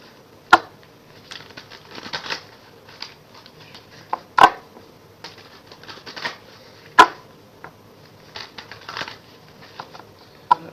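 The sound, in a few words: shuffling tarot cards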